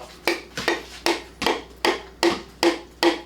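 Rapid, evenly spaced hammer taps on metal, about eight sharp strikes in quick succession, close and fairly loud, as a piston is tapped into a Triumph TR4 engine block.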